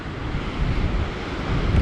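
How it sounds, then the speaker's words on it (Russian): Winter storm waves on the sea off Crimea, a loud continuous roar of surf mixed with heavy wind buffeting the microphone, with no voices. "Да, друзья, вот такое море зимнее бывает у нас. Зимние шторма."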